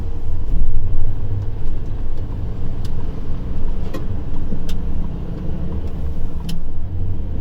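A truck on cruise control rolls steadily through a roundabout near Namur, its engine a constant low rumble with road noise and a few faint ticks, no talk over it.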